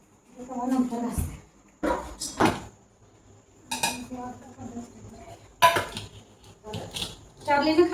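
Metal pots and dishes are scrubbed and knocked together in a village kitchen, in short clattering bursts separated by brief pauses, close and fairly loud.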